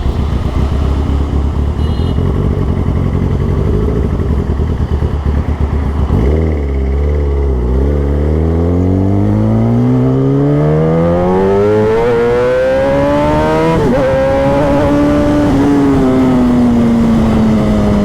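Kawasaki ZX10R superbike fitted with an Austin Racing exhaust, idling with a loud, rough burble before revving up in long rising sweeps to a high-pitched scream, close and loud throughout.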